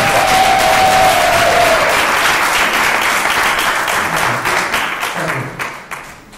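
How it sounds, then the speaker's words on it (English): A large audience at a women leaders' gala dinner gives loud, sustained applause with a brief whistle near the start, then the clapping thins and fades toward the end. "give Shirley a big round of applause"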